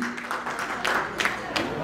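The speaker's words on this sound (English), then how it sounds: "Can we have a little clap for my friend Habib also, please?" Applause from an audience at a Bangladesh Cadet College Club of North America gathering, a short burst of clapping lasting under two seconds, with voices mixed in.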